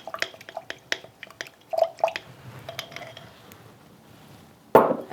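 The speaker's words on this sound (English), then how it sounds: "Then in one of the jars of water, you start cleaning your brush" Paintbrush rinsed in a jar of water used for cleaning acrylic paint, giving soft intermittent drips, splashes and light clinks of bristles against glass, close and quiet, ending in a louder slosh.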